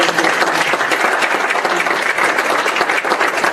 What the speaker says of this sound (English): And we need to give them all a round of applause.